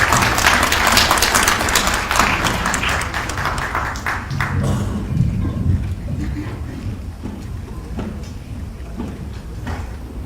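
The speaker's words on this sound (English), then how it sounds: "please give her a round of applause as she comes to speak to us" An audience at a speech gives dense, loud applause that fades over the first few seconds, leaving scattered claps and faint room noise.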